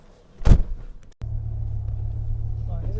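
A Fiat Coupe fitted with a Lancia Delta engine starts with a sharp burst, then settles into a steady, deep idle rumble close by; a voice briefly sounds early on.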